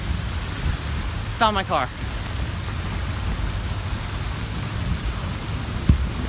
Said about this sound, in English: now it's just raining and it's puddling